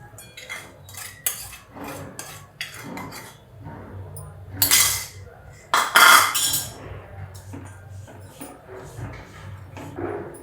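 A spoon stirs jaggery with a little ghee in a kadai for puffed rice laddoos, making uneven metallic clinks and scrapes against the pan, with a couple of louder bursts midway and faint background noise.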